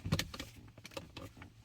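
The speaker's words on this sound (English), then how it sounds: "You get dash creaks." Creaks and rattles from the dashboard of a C5 Corvette while driving over bumps, a run of short, close, plasticky ticks and knocks at irregular intervals with no talking.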